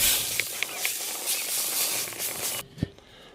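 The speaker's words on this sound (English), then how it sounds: "Let's go ahead and spritz them with a little bit of butter." Butter spritzed onto chicken drumsticks cooking on a Weber kettle grill: a steady, close hissing spray for about two and a half seconds that cuts off abruptly, followed by a single soft knock.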